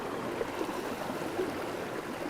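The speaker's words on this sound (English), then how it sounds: "the drinking water people rely on comes from overground springs. So we're going to collect it from this place where it's flowing." Soft, steady rush of water flowing from an overground spring used for drinking water, a faint, even burble with no voices.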